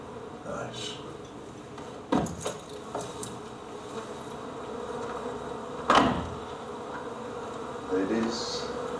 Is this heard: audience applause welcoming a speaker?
no